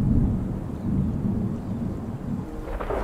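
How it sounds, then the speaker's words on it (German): Thunder rumbles as rainfall begins in the ecological restoration game Terra Nil, a loud low rolling roar with the hiss of rain over it, steady and without talk. "Oh, Regenfälle beginnen!"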